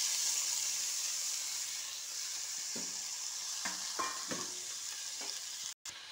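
Vegetables with tomato and onion frying in a pan, seasoned with salt and turmeric, give a soft continuous sizzle broken by a few clicking stirs and scrapes of a spoon, close up, with a brief cut near the end.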